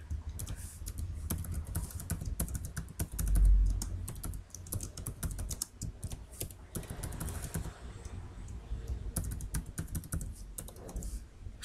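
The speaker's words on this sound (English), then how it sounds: "So let's move to the main file and type a buffer reload statement." Code being typed on a computer keyboard in the Eclipse IDE for Java: rapid, uneven clicking of keys, close and continuous, with no talk.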